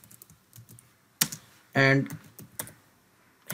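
Quick bursts of computer keyboard typing on a Windows 11 PC as a command-line instruction is entered, scattered taps followed by a denser run of keystrokes, close and clear, with a brief spoken word.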